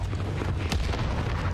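A loud explosion in the Warzone video game, a dense roaring boom with a sharp crack partway through, heavy and sustained with no talking.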